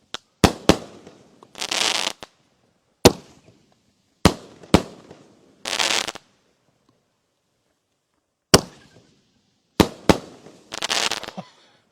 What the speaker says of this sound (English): This next one here is called Trinity by Winda Fireworks.